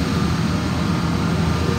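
A 1998 Ford E-350 15-passenger van with a 5.4-liter V8 and low mileage runs steadily, a close, even engine drone holding level throughout with no voices.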